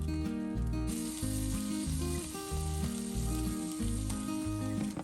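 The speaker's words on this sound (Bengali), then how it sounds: "উল্টে দিয়ে আরও 2 মিনিটের জন্য কুক করে নিতে হবে।" A tomato, spinach and cheese tortilla wrap sizzling in a hot pan, a loud steady frying hiss with faint scraping and rhythmic low bumps, with no talk over it.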